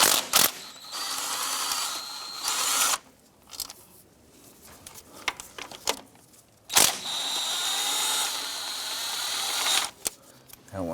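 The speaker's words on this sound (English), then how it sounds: "Using our 10mm socket, remove this one here." A 10mm socket on a ratchet working a fuel injector bolt loose on a 1994-2004 Chevy S10, heard as close bursts of mechanical clicking and metal rattle separated by quieter gaps.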